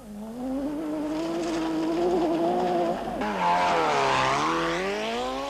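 A Nissan rally car pulls away from a special stage start at the 1988 rally, its engine revving loudly and climbing in pitch, dropping briefly at a gear change before winding up again, close and steady throughout.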